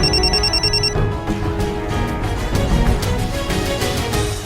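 A telephone rings in a continuous electronic ringtone, loud and close, playing amid a busy musical background throughout the short stretch with no speech over it.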